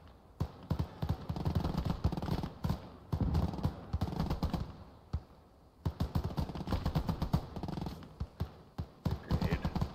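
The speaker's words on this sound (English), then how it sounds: "Looks like we're gonna get rid of that MG42 finally." Bursts of MG42 machine gun fire in the WWII game Gates of Hell: Ostfront, rapid chattering volleys coming in two long stretches separated by a short lull, loud and close amid battlefield noise.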